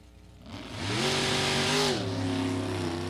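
Dodge Roadster race car at a drag strip, its big engine revving up loud and then holding a steady high roar, no voices.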